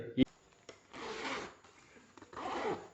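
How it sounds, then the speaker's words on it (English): The zipper on a bikers' and hikers' bag is pulled open and closed in two long, smooth rasping strokes with small clicks of handling, quiet and close. "Zippers are also very durable and has butter smooth flow."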